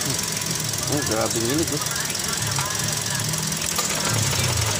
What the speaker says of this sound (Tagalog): Grabing palyado.